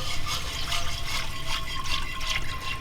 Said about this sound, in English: So now we're going to pour 2 cups of chicken broth.